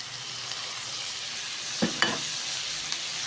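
Onion sautéing in butter with pepper in a home kitchen, a soft, steady sizzle with a couple of brief stirring scrapes near the middle, heard alone with no voices.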